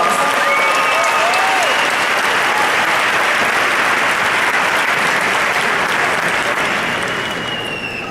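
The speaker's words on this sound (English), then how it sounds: "so let's give him a round of applause." A graduation ceremony audience gives a long, loud round of applause that holds steady and then tapers off at the close.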